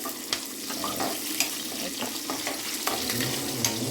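Onions frying in a pan until browned, a steady close sizzle with occasional stirring clicks and scrapes, no voices.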